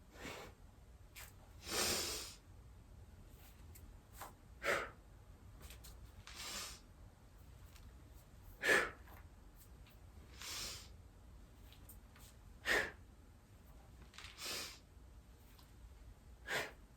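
Breaths taken during a yoga standing forward bend: sharp, separated inhales and exhales that come every couple of seconds, fairly close and soft against a quiet background.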